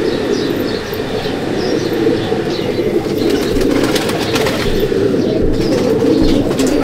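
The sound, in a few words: Male pigeon flapping its wings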